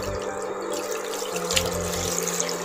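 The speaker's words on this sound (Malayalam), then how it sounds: "ഇനി ഇതിലേക്ക് പാലൊഴിച്ച് കൊടുക്കാം." About a litre of Milma milk is poured straight into a pan of caramelised sugar for a toffee semiya dessert, a short, steady, gurgling liquid stream, close but fairly quiet, with no voices.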